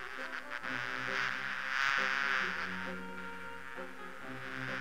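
Bees in the game Discworld 2 give a droning, harmonic buzz that swells and fades over a few seconds, with no talk.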